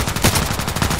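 Rapid burst of KelTec RFB rifle fire in the shooter game Contract Wars: several sharp, loud shots in quick succession, close and punchy, with no talking.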